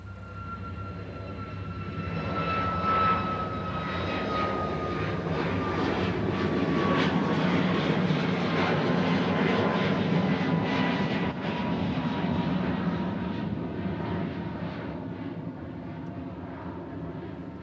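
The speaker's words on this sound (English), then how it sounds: "That was a Southwest heading off somewhere." Southwest airliner taking off at Honolulu airport, a jet roar swelling from a distance to a loud, sustained rumble with a high engine whine sliding downward, then slowly fading as it departs.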